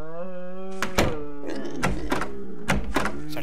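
A door is handled: a held voiced sound leads into several heavy thunks and knocks spaced through the clip, close and fairly loud.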